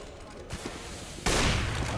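Gunfire cracks out during a Counter-Strike match on the Overpass map, a short burst of shots swelling into dense sustained firing over the last half, with a commentator talking.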